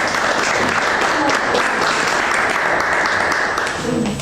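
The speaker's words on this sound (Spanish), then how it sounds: "Otro aplauso aquí para" Loud, dense applause from a crowd, sustained clapping filling the whole stretch without a break.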